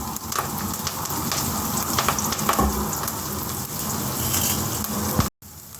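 Chopped onion pieces dropped into hot oil for a raw banana and tamarind curry, a loud, continuous sizzle and crackle that runs almost unbroken before cutting off abruptly near the end.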